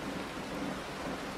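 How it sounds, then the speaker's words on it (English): Rain pours steadily with a low rumble of thunder beneath, a brief dense wash of sound with no talk. "The rain starts to intensify,"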